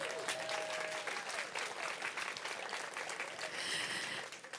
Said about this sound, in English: Now give yourselves a round of applause